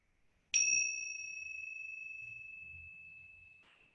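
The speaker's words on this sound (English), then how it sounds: "see if you can turn your focus to the sound of the bell" A single meditation bell is struck once, producing a clear, pure ringing tone that lingers and slowly fades over several seconds in near silence.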